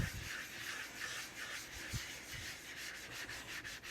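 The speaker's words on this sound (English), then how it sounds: "I flatten stones." A sharpening stone is flattened before honing a Silver Orchid razor, making quiet, rhythmic rubbing strokes, several gritty back-and-forth passes in close succession, heard alone.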